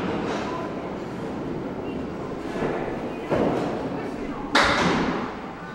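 In candlepin bowling, a ball strikes the pins with a couple of sharp thuds and clatters against the steady hum of the lanes, while a commentator talks over the action.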